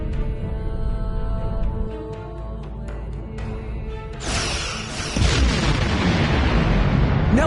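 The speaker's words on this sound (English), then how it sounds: "Target that ship, and fire all weapons!" Starship weapons fire in Star Trek Online: a low rumbling drone and fire build until a sharp burst erupts, followed by a loud, sustained roar of explosions.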